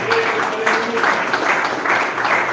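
A church congregation clapping hands together in praise, a continuous rhythmic patter of many palms with voices mixed underneath, fairly close and steady.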